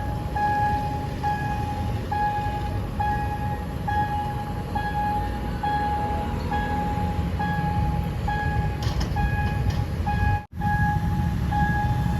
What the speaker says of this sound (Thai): ก็เป็นขบวนรถเร็วที่ 136 นะครับผม อุบลราชธานี ปลายทางสถานีกรุงเทพนะฮะ